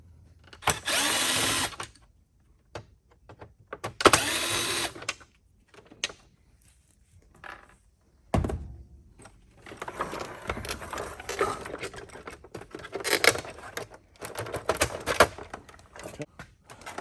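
A power drill removing screws from a Hoover Windtunnel vacuum cleaner, several loud whirring bursts of a second or so each separated by pauses, then a longer stretch of irregular rattling and handling noise, close by.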